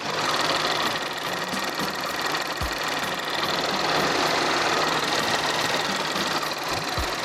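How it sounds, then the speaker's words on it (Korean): An Alpheon large sedan's engine idles with a steady, smooth, quiet hum running continuously, broadband and even, with a faint low rumble and no voices. "엔진 소리 한번 들려드릴게요"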